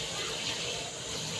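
Water runs and splashes steadily as a face is wetted for washing with a bar soap and toothpaste routine, a continuous close rush with no talking.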